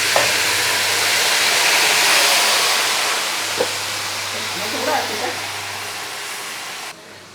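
Spice powders frying and being stirred in a pan for a beef fry, a steady broadband sizzle with a few scraping stirs, close and fairly loud throughout, no talking.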